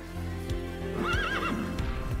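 A horse neighs and whinnies over a steady low rumble while being ridden through tight, frequent changes of direction, with occasional soft hoof thuds close by.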